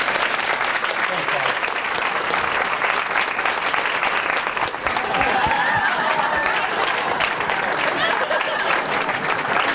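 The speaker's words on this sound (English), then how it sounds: "So let's give him a round of applause." A large audience applauds steadily at a lunch-hour equity and social justice event honoring Bob Santos, with sustained dense clapping throughout and faint voices mixed in.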